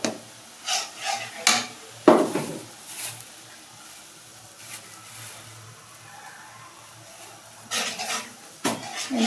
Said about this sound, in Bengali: এগুলো এখন কষানো হোক